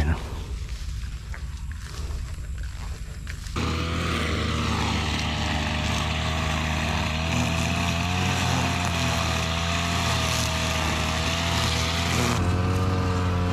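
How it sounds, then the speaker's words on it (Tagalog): A Kawasaki 2-stroke grass cutter engine runs steadily and loud at close range, its droning buzz holding at a constant pitch throughout after a brief quieter start. "Yan yung grass cutter na mai-recommenda ko sa inyo, yung Kawasaki 2-stroke."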